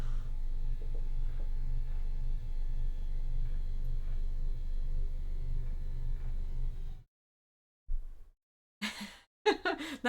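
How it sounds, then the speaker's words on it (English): A motorized standing desk lowering during a Legend of Zelda: Breath of the Wild stream, a steady low mechanical hum running about seven seconds before cutting off, followed by brief scattered noises. "That was the sound of the desk going down."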